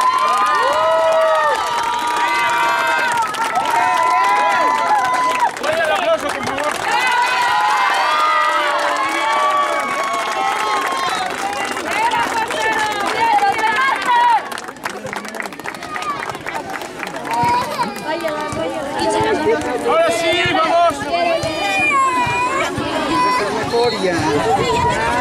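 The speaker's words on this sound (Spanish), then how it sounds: "Yo le quiero dar un aplauso al portero del equipo olímpico." Youth football crowd cheering, shouting and clapping at a Pony category final between Olímpico and Diablitos, a dense, loud, continuous roar of voices and children's shouts, with chatter mixed throughout.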